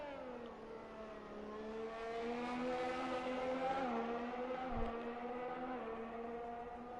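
A Ferrari Formula 1 car in F1 2021 screams past at Silverstone with DRS open, its engine a steady high-revving whine that climbs in pitch and then dips slightly, heard at moderate level with a faint thump near the end.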